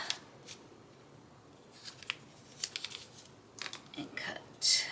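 Scissors cut paper for a handmade journal, making a series of quiet, close snips and rustles at irregular intervals, with a louder paper crinkle at the end.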